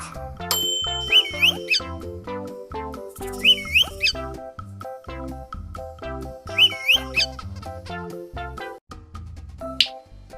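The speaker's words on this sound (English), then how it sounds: "Parrot." A parrot gives repeated whistling, squawky calls in short separated bursts, bright and near, set against continuous background music.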